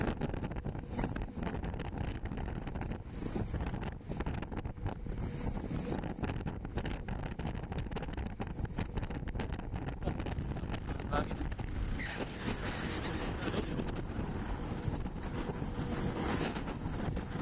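Strong wind at sea buffets the microphone in continuous gusts with a fishing boat's rumble beneath, and people talk now and then over the roar.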